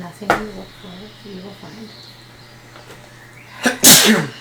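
A single loud, close sneeze bursts out near the end, following a stretch of a voice reading aloud over a low steady hum.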